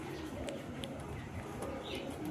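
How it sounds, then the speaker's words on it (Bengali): A male Teddy pigeon coos in low, soft, steady murmurs against a faint constant background hum, with a few brief high chirps from other birds and no speech. "এটা হচ্ছে আরও নর কবুতর।"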